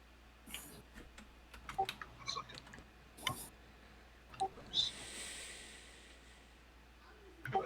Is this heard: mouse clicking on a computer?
yes